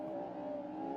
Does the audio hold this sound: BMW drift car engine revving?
yes